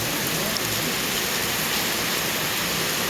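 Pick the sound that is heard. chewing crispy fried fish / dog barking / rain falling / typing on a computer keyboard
rain falling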